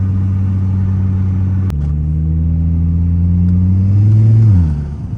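A Volvo S40 T5 with newly installed intercooler hoses pulls hard, heard from inside as a loud, steady low engine drone that climbs in pitch, then drops off abruptly near the end; nobody speaks.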